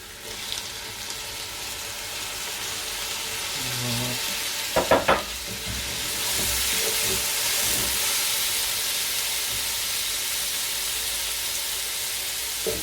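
Tomatoes added to onions and spices frying in a pot for sarson ka saag, a continuous close sizzle with a brief clatter and splash as they go in, then stirring.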